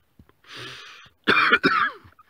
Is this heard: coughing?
yes